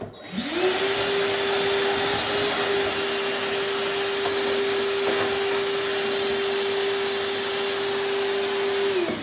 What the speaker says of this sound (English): Let me vacuum this mess up here real quick.